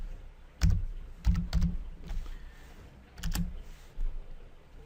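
Someone enters code on a computer keyboard, typing a few sparse, close key presses and hitting Enter, with soft thuddy strokes separated by quiet pauses.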